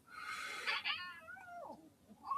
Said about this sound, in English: The cat's pissed off.